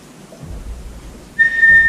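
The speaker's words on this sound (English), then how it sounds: "you do the whistle first, the word sit second" A dog training whistle for the sit cue sounds one sharp, steady high tone near the end, after a brief low rumble of handling noise.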